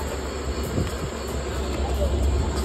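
A train coach rolls into a railway station in Dhaka, making a low continuous rumble with faint rhythmic clatter and murmuring voices in the background.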